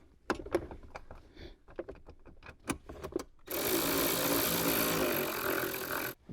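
A power tool drives a gold 10 millimeter bolt back into a Toyota 4Runner's driver knee panel area, a loud steady whirring burst lasting a few seconds after scattered clicks and handling knocks, with no talk.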